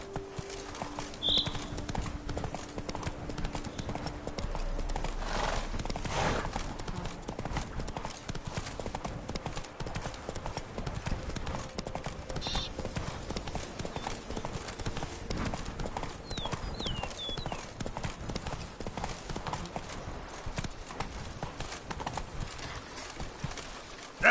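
Steady clip-clopping hooves of Roach, Geralt's horse in The Witcher 3: Wild Hunt Blood and Wine, trotting continuously for the whole stretch alongside game ambience, with a brief neigh and faint background voices.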